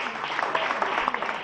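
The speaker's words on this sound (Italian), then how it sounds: "Accogliamoli con un grande applauso, i due Enrico!" A festival audience at a magic show during the Feast of San Marziale bursts into dense, steady clapping that fills the short stretch, close and lively.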